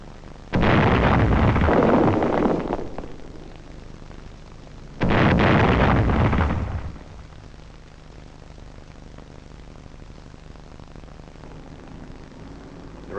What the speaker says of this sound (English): Again, German mines in the road lend their force to the explosion.